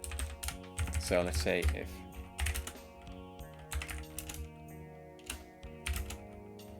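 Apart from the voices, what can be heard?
typing on a backlit computer keyboard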